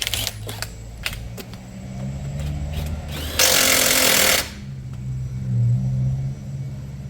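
A power tool whizzes on the main nut of a Sinnis Harrier motorcycle rear wheel after a tyre change, one loud burst of about a second amid quieter workshop clicks and low rumble.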